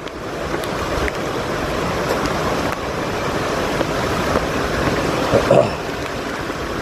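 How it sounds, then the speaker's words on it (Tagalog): Loud, steady roar of wind and heavy rain lashing a hut, a constant wash of noise with a few gusty swells and no clear voices. "Grabe ang ulan sa kubo. Ang hagupit ng hangin dun."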